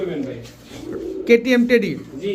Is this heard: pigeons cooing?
yes